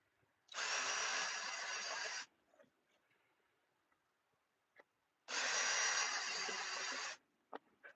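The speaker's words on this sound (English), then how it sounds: "Countersinking." A power drill countersinks screws into a wooden bed platform, running in two loud, steady bursts of about two seconds each, separated by quiet pauses with small clicks and knocks.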